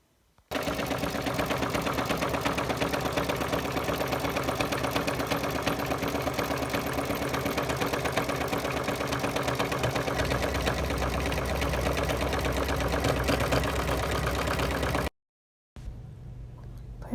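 Embroidery sewing machine tacking down a pocket section in the hoop, stitching steadily with a fast, even needle rhythm for about fifteen seconds, loud and close, then stopping briefly before starting again.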